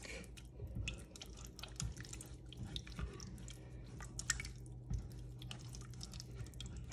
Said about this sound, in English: now I'm going to add some more water. I'm just trying to incorporate the water.